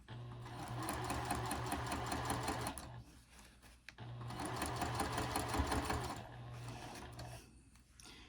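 Sewing machine stitching a seam on a wristlet clutch, running in two fast whirring bursts of rapid needle clatter separated by a brief pause, close and clear with no talk.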